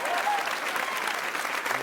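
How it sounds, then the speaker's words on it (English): Studio audience applause at a political comedy talk show fills the moment, a dense steady clatter of many hands at moderate loudness that holds evenly for a short burst. "Thank you for applauding my breakdown."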